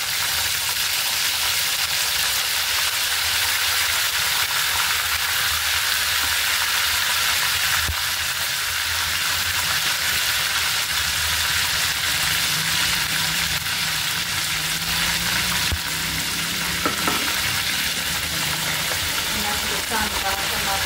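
Ginger and garlic frying in a pan for a country chicken curry, giving a steady, close, broadband sizzle that holds for about twenty seconds, with a few faint clicks and a short metallic touch near the end.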